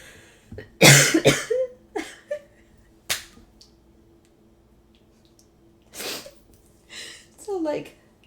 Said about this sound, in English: I've got allergies. I'm gonna cough.